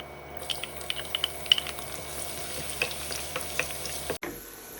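Thinly sliced garlic fries in hot oil in a pot, a topping for crispy fried pork ribs: a steady close sizzle with scattered sharp pops and crackles, then a sudden cut near the end.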